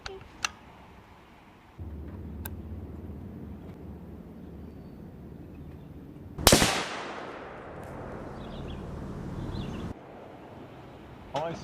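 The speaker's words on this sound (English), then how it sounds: "one of the federal copper rounds down there at a cinder block, 70 yards, and just see what kind of damage it does to the cinder block" A rifle shot firing a Federal copper round at a cinder block 70 yards away outdoors, one sharp loud crack that rolls off into a fading echo over steady background noise.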